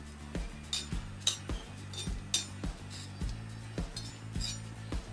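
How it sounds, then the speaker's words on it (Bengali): Dried chillies roast on a griddle while a spatula presses and taps against it in a regular rhythm of about a dozen metallic clinks over a low background hum, close and fairly quiet, with no talking. "তাওয়ার মধ্যে শুকনা মরিচ দিয়ে দিব ও ছুন্নি দিয়ে চেপে চেপে ভেজে নিব মরিচগুলো"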